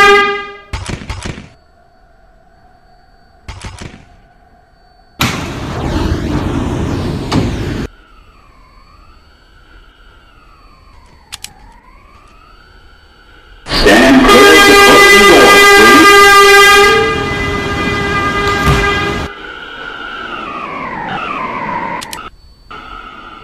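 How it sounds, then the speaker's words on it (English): A Roblox R179 express subway train arrives in a video game station, with short thunks, rising and falling motor whines, a long loud horn blast and a hissing sustained burst, set against near silence between events. "There is an express train approaching the station."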